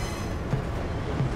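A train running in the video game Remnant 2, a steady low rumble of rolling wheels and carriage noise with faint rhythmic clatter, continuous and fairly close.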